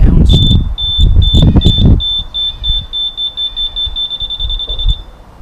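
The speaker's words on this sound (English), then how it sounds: "Bloody alarm." A high electronic alarm on a 2008 Triumph Sprint 1050 ST motorcycle beeps rapidly and repeatedly, loud and close, while someone talks over the first couple of seconds.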